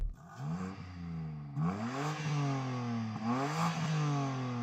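An inline engine with no rev limiter revs repeatedly, its pitch climbing and dropping in several rising sweeps, loud and close with a rough, strained tone.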